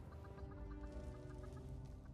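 A chicken clucks in the Fallout 76 video game, a faint, rhythmic series of short clucks heard under a low, steady game soundscape, with no talking.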